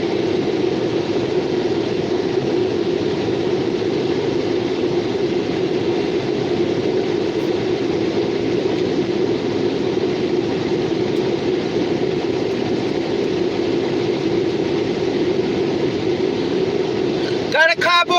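CSX and Norfolk Southern freight trains passing through Beaver Falls, Pennsylvania, a continuous loud rumble and droning roar of rolling cars and locomotive engine that holds steady for the whole stretch, with a brief sharp squeal near the end.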